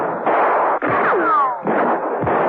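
Gunfire with bullets spattering into hot sand of a bullring around a fleeing man's feet, a dense run of sharp reports and impacts over a noisy bed, with a couple of abrupt cracks.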